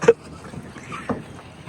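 A boat moves across Venna Lake in Mahabaleshwar on a winter evening, giving a soft thump at the start followed by gentle water movement and light wind rustle nearby.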